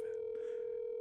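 A steady telephone dial tone at the start of a phone call, a single continuous pitched hum held for about a second and ending in a brief click.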